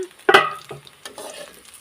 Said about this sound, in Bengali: নাড়াচাড়া করে এটাকে একটু লালচে করে ভেজে নেব।